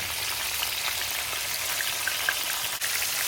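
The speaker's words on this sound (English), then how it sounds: "We're gonna test fry a few pieces here." Catfish pieces frying in hot oil give a steady, close crackling sizzle with scattered small pops, continuous and alone throughout.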